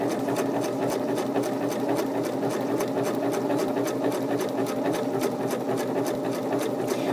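A sewing machine stitching a buttonhole runs loud and close, its needle clattering in a fast, steady rhythm without pause and with no voices.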